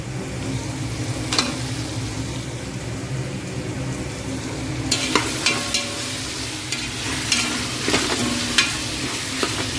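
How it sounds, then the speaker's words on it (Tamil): Ginger garlic paste and chopped tomatoes sautéed in a pan for vegetable biryani, a steady close sizzle with scraping spoon strokes that grow busier and more frequent partway through. "இஞ்சி பூண்டு பேஸ்ட் நல்லா வதங்கிடுச்சிங்க இப்போ தக்காளி கட் பண்ணி வச்சுருக்க தக்காளி போடலாம்"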